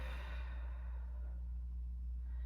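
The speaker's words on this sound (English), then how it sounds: "Taking a couple of deep breaths here" A slow, deep exhale during a gentle neck stretch, one long breathy sigh that fades out over a steady low hum, soft and close with no talk.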